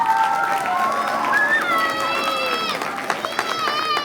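Audience at the 2020 Clemmons lip sync contest claps and cheers with high whoops and whistles as a judge is introduced; a steady, fairly loud crowd roar fills the whole stretch.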